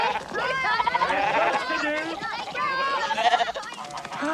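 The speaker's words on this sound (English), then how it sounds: "ever seen the sheep?" Sheep bleat loudly and continuously at a farm sheep shearing, with overlapping wavering cries close by and children's voices mixed in.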